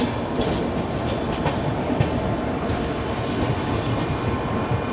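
A passenger express train rolls into Azimganj Junction, with a steady rumble of wheels and carriages and faint rhythmic clatter throughout.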